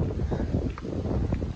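Wind at Unniyal beach in Kerala, lined with coconut groves, buffets the microphone in a continuous, fairly loud low rumble with gusty swells and no talk.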